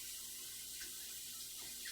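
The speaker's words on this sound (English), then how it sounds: "I'm going to rinse this off" Tap water runs in a steady, close hiss into a sink as achiote packets are rinsed under it, continuous and unbroken throughout.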